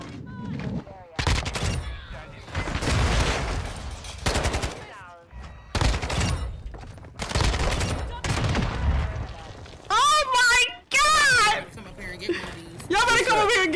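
Video game gunfire in separate loud bursts of shots, broken by pauses, with someone talking and reacting over and between the volleys.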